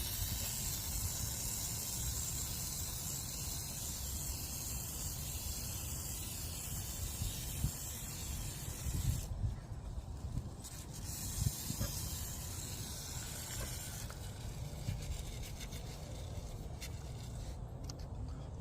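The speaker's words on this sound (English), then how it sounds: "I wanted to apply WD-40 throughout the whole chain section and not specific on a single revolution" WD-40 lubricant hisses steadily from an aerosol can onto a rusted motorcycle chain on a Super Meteor 650, a long continuous spray with a few brief breaks, close and moderately loud.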